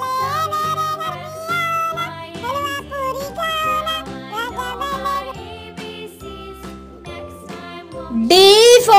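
A cat's meow sounds within a children's alphabet phonics song, set against a bright, bouncy melody with steady backing music and a louder burst near the end.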